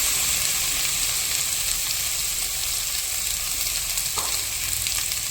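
Sliced bitter gourd sizzles steadily in hot oil with mustard seeds and curry leaves for a Kerala pavakka theeyal, a loud, even frying hiss close up with no talking.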